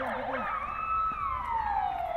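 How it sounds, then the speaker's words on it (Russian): Fire alarm siren sounding during a kindergarten fire drill, a loud, continuous wailing tone that sweeps and then slowly falls in pitch, with no talk over it. "Звучит сирена, и на пульт диспетчера МЧС поступает сигнал о возгорании."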